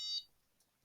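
A game buzzer set to a quieter, lower tone sounds one short electronic beep that cuts off after a fraction of a second, leaving near silence.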